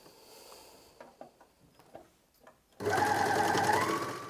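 A Janome 9300DX overlocker sews fabric. Quiet handling noises and soft clicks come first, then the machine starts abruptly and runs at a loud, steady hum for the last second and a half.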